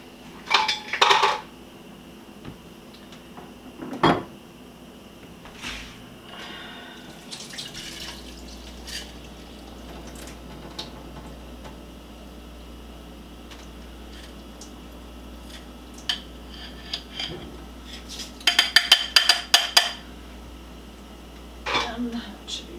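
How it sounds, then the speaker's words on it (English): Cooked rice drains through a strainer in a home kitchen: short bursts of splashing water at the start and again near the end, with drips, light clinks and occasional voices in between. "let's drain the rice"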